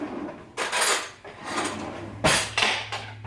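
Kitchen cutlery clinks and rattles as a spoon is fetched from a drawer while baking black bottom cupcakes. Several bursts of metallic clatter come close together, with no talk.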